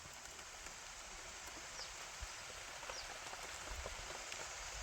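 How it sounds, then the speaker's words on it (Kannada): Steady rain falls outside a tree house beside a forest, a continuous even hiss with scattered drops pattering close by, and no voices over it. "ಕೇಳಿಸ್ಕೊಳ್ಳಿ ಒಂದ್ಸಲ ಮಳೆ ಸೌಂಡು."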